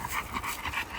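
A dog panting in quick, rhythmic breaths, close and clear during an outdoor dog training day.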